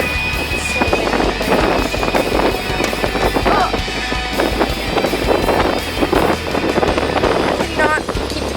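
Steady wind buffeting the microphone at an outdoor drag strip during bracket racing as a storm rolls in, a continuous loud low rumble with an announcer's voice talking over it throughout.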